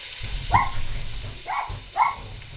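Three barks from a dog, spaced out over a couple of seconds, with a faint background hum.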